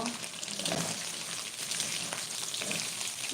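Chicken frying in a pan gives a steady, continuous sizzle with crackling spatter throughout, close and fairly quiet, with no speech over it.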